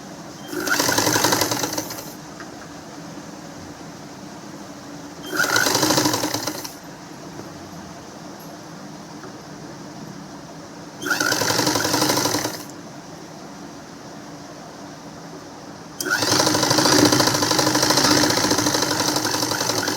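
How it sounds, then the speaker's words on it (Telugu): A sewing machine stitching fabric for a child's frock runs in four loud whirring bursts, the last and longest near the end, separated by pauses of quieter background hum. "ఇప్పుడు ఇలా ఫోల్డ్ చేసుకొని ఒక కుట్టు వేయండి."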